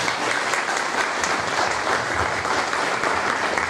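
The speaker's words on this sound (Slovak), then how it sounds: "potleskom treba vybičovať účinkujúcich k lepšiemu výkonu a bohatšiemu" Sustained audience applause at the Šarišská heligónka 2022 accordion festival, a dense, steady clatter of many hands filling the hall without a break for nearly four seconds.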